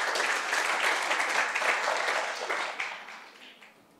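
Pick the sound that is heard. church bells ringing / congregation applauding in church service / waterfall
congregation applauding in church service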